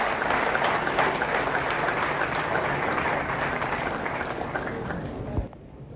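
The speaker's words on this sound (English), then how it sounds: "Give yourself a wonderful round of applause." A crowd at a forex trading expo applauding steadily, dense clapping that holds for several seconds before cutting off near the end.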